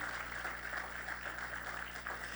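A church congregation claps in steady, continuous applause over a low background hum, fairly distant and even throughout.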